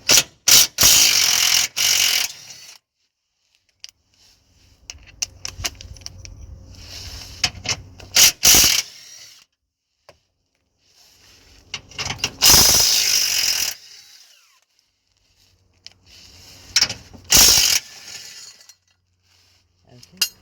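A hand ratchet clicks in several loud bursts while clamp bolts on a Toyota Prius anti-roll bar D-bush mounting are undone, with quieter gaps of faint handling noise and low rumble between them.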